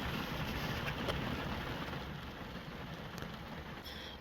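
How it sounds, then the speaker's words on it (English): Steady, soft rain falling outdoors, a continuous even hiss with a few faint drips, no talking. "It's raining."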